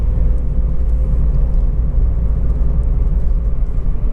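A 2008 Honda Jazz 1.4 i-DSI Sport CVT hatchback rolls over a bump, giving a steady, close low rumble of road and engine noise throughout, with no distinct clonks from underneath.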